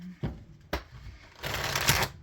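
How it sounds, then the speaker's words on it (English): Tarot cards shuffled by hand in a few short riffling bursts, with two sharp taps early on and then a louder, sustained flutter of cards near the mic; no talking. "You guys know I like to have things shuffled, so please be patient with me."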